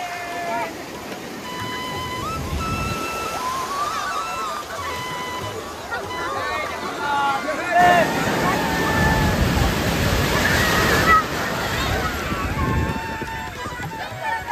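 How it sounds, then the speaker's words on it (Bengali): Strong sea waves roll in at Puri beach, a steady rushing surf that swells into a louder crash midway, with people talking over it. "ঢেউ দেখতে পাচ্ছেন আপনি, প্রচন্ড ঢেউ আছে"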